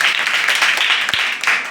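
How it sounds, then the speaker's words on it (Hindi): Children in a classroom clap together in a steady burst of applause for a classmate during an English vowel-sound lesson, loud and continuous for the whole moment with no talking over it. "ताली बजा दीजिए"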